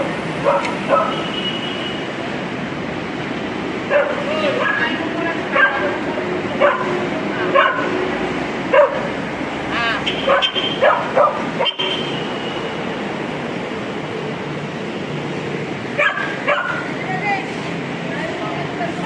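A dog barks and yips repeatedly under a collapsed structure amid debris, sharp bursts and whimpers scattered through ongoing conversation, with people talking nearby throughout.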